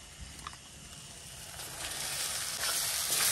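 Eggs dropped into hot oil and fried spice masala in a pan for a village-style prawn biryani, a steady close sizzle and hiss that grows louder and brighter, with faint clinks near the start.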